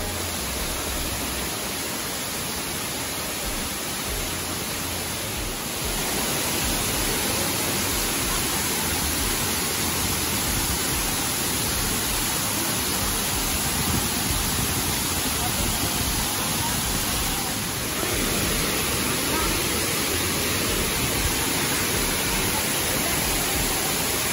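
Asik-Asik Falls in North Cotabato roars as a dense, unbroken wash of falling water, loud and constant with no break.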